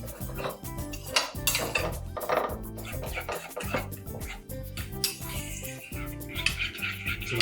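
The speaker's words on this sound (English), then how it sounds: "Just gonna give it a mix now." Rice being mixed with Kashmiri chili oil in a bowl, a utensil scraping and clinking steadily against the dish in busy, close rhythmic strokes with no talking.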